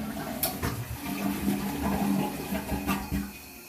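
Toilet flushing and the tank refilling, a steady close rush of running water with gurgles and a low hum, heard alone without talk.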